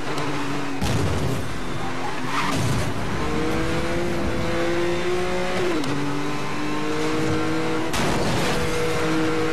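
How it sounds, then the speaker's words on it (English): A car drifts around corners in Need for Speed Most Wanted, with loud sustained revving, shifting engine pitch and tire squeal through skids, close and continuous for the whole stretch. "The drifting feels just right."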